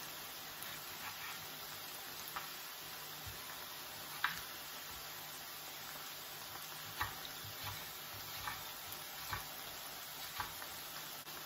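Onion sautéing in a pan for keto eggplant beans, a steady soft sizzle with faint ticks and pops, quiet and continuous with no talking over it.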